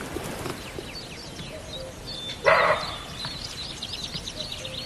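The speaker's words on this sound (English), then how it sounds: "Sounds like a dog, but that's actually a deer." A deer barks once in a forest in the Rhodope Mountains, a single sharp dog-like call at middle distance, rising above steady outdoor ambience and birdsong.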